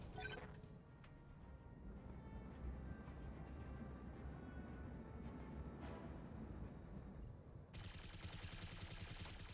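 AC-20 autocannon fire in the BattleTech video game comes as a dense, rumbling barrage of heavy blasts that keeps going for several seconds and ends in a brighter crash, fairly quiet overall, with no talking.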